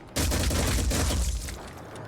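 Rapid burst of gunfire in a video game, a dense fusillade of loud shots lasting about two seconds.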